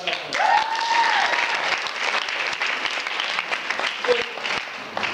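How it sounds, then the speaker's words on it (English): Crowd at a street gathering claps hands in a steady, dense patter of applause, with a brief voice or whistle-like tone near the start and chatter mixed in. "Clap it up."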